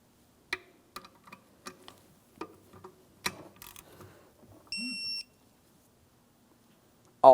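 A torque wrench set to 37 foot-pounds clicking as it tightens mounting bolts on the power steering pump of a 2007-2014 GMC Sierra 2500 HD: a quiet series of sharp, separate clicks, then a short electronic beep.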